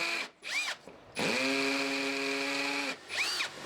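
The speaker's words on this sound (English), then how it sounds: "So I'm starting off with a 4mm drill bit," A power drill fitted with a 4mm bit bores into a house wall to mount an outside tap. It gives short whirring bursts, then a long steady grinding run, and its pitch rises and falls as the trigger eases.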